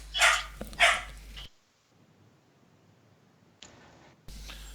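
Dogs barking at home, two sharp close barks at the start, then near silence, and a further bark burst at the end.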